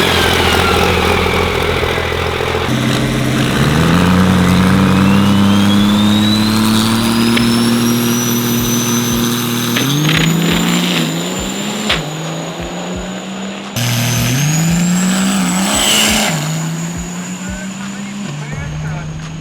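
Diesel race trucks roar past in a loud, continuous pass, engines revving and rising in pitch as they accelerate, then dropping briefly before climbing again, with a crowd voice faintly underneath.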